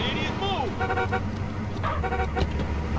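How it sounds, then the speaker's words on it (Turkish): Car traffic in the video game GTA San Andreas: a steady low engine drone runs throughout, with several short horn toots over busy roadway noise, loud and continuous. "Hemen gidelim şu araba."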